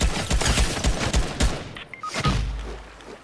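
Rapid bursts of gunfire ring out in a Fortnite-style battle royale squads match, a loud close volley of repeated shots for about a second and a half, then a few scattered thuds and a low rumble.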